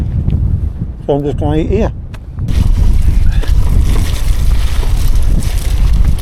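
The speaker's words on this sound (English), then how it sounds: "I can't find anywhere what's not windy" Strong wind on open moorland near Widdop reservoir: heavy rumbling gusts batter the microphone, easing briefly while someone speaks, then roaring back loud and continuous.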